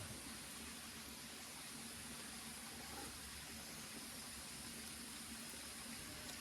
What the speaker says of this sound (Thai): คือได้ยินเสียงน้ำไหล เป็น ธรรมชาติคือบำบัดได้ทุกอย่างนะ